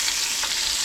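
Bison meat sizzles loudly in a hot pan as it is flipped with tongs, a close, bright crackle of frying fat for under a second.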